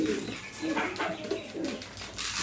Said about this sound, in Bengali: এই যে অনেক ধরনের এখানে লাক্ষা কবুতর আছে